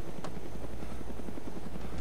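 A helicopter in the survival game DayZ thrums steadily with rapid rotor chop, loud and continuous throughout.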